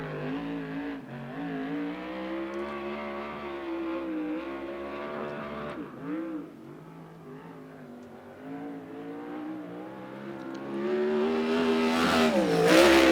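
A USAC Southwest race car, the 51T driven by Tafoya, runs a qualifying lap at Central Arizona Speedway, its engine droning steadily with wavering pitch, dipping briefly midway, then swelling louder and brighter toward the end.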